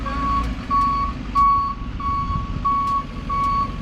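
A truck sounds a steady run of loud, evenly spaced reversing beeps while a car is loaded onto its bed, with a constant engine rumble underneath.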